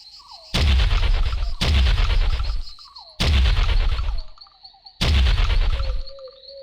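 Four loud, booming weapon blasts from a first-person video game set in Jurassic Park, each a sharp broadband burst followed by a rumbling tail, spaced about a second and a half apart with quieter game sounds and tones between them.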